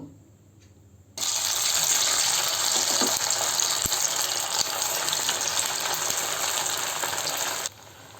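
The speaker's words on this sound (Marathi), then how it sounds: "आपण आता ह्या वड्या तळून घेऊ" Rice vadis deep-frying in hot oil over a low flame, a loud, steady hiss and crackle that starts abruptly after a quiet second and runs almost unbroken for several seconds before dropping away at the end.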